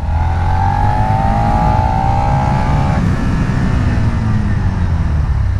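A Suzuki SV650A motorcycle pulls away in first gear, its engine note rising steadily and loud, then dropping off abruptly partway through as the revs fall back to a lower rumble.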